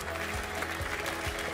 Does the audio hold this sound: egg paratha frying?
no